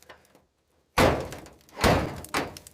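A seized door on a rust-rotted car left in a jungle for 30 years being forced, heavy metallic thunks and scraping jolts, three loud blows close up after a short silence.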